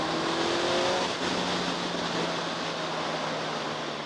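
Motorbike engine holding a steady, loud drone with a rising whine early on, continuous throughout and heard close, with wind-like rush underneath.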